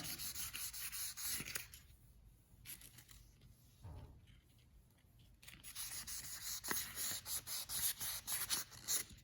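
Hand sanding with 2000 grit sandpaper on a custom paint job, a soft rhythmic rubbing that comes in strokes, fading briefly in the middle before returning in quicker, steadier passes, faint and close with no voices.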